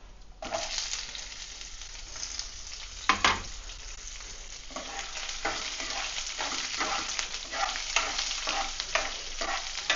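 Cut onions frying in a pan over low heat for coriander rice: a continuous close sizzle with a sharp stir-and-scrape burst early on, then steady crackling throughout, no voices.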